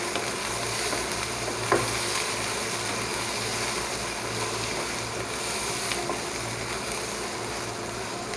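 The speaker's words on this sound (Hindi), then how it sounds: "हमने जो प्याज काटे थे वो डाल देंगे इसके अंदर। अब चम्मच चलाएंगे।" Chopped onions sizzling steadily in hot oil in a pan for a potato and onion dish, with a constant frying hiss, a faint low hum underneath and an occasional light spoon scrape or tap.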